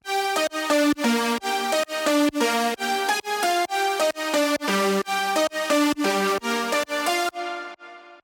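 Two synth leads play together in a progressive house drop, forming a dense, bright stream of rapid rhythmic notes that pulse evenly and continuously before fading at the end.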